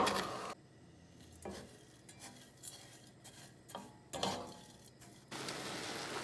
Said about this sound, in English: you're going to need something to stir this sugar till it melts